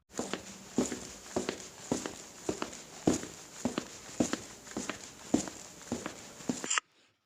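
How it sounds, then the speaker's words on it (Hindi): Footsteps as a sound effect in a dramatic narrated story: about a dozen evenly spaced, hollow thudding steps walk at a steady pace, close and clear, then stop abruptly, with no voice over them. "कदमों की आहट सुन वह उस तरफ देखने लगती है।"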